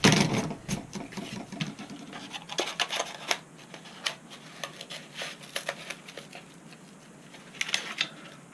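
A blade shaving a bevel onto the end of a small model triplane part, heard as close, repeated short scraping strokes in an uneven rhythm, sharper at the start and then steady, with no talk.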